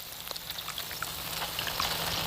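Spoonfuls of batter fry in a pan of hot oil, giving a faint, steady crackling sizzle with scattered pops throughout.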